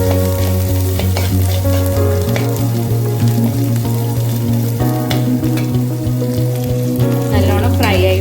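Fennel, crushed ginger and garlic fry in hot coconut oil, giving a loud, dense, continuous sizzle with steady crackling and occasional stirring scrapes, close up and with no talk.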